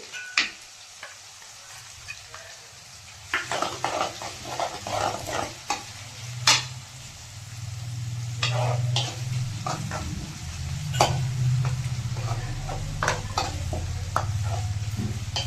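Garlic paste frying in a pan, a rising sizzle under repeated close scrapes and clacks of a spoon stirring against the metal, growing fuller and louder over time.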